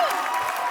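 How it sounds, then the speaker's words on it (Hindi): Studio audience on a Hindi comedy talk show bursts into loud, dense applause for Sidhu, a steady wash of clapping with some cheering throughout the short moment. "सिद्धू जी के लिए जोरदार तालियां"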